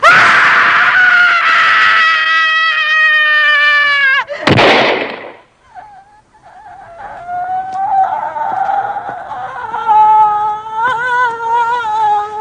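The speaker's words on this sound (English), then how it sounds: "Scream." A long, loud, piercing human scream sustained for several seconds, breaking off abruptly into a sharp burst, then quieter strained wailing cries continuing alone.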